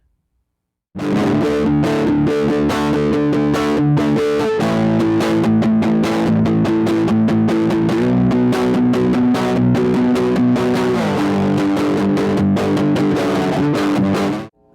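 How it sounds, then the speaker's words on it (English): An electric guitar through two BOSS DS-1 distortion pedals, one hard and one mild, plays a continuous run of chords and notes, loud and dense with heavy crunchy saturation, with no voices. "The modern one with a hard distortion. The vintage one with a mild distortion."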